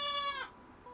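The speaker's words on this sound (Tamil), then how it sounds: "ஆடு," A single goat gives one short, nasal bleat up close, wavering and then fading quickly into quiet.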